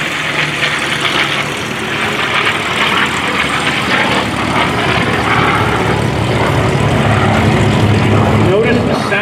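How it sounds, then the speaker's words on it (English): A Pratt & Whitney radial engine on an F4U Corsair roars loudly and steadily as the fighter makes a low airshow pass, a broad rumbling drone that swells slightly toward the end, heard without talk. "Notice the sound of the engine. The Merlin sings. The Pratt & Whitney rumbles."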